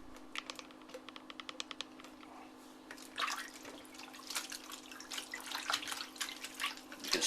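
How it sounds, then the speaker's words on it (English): Blanched spinach stirred by hand in a bowl of ice water at a kitchen sink, with faint splashing and dripping that grows busier, over a steady background hum. "I just dump it in that bowl of ice water that I had in the sink."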